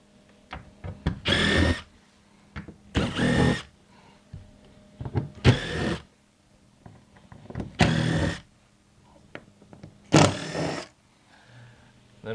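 A power driver backs screws out of the column of an Exact Slide G5.5 cable slide in five separate whirring bursts, each a second or so long, with quiet pauses and faint handling clicks between them.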